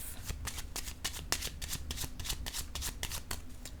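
Oracle cards are shuffled by hand in quick, crisp riffling flicks, a steady run of soft slaps and rustles recorded close and fairly quiet, with no talking.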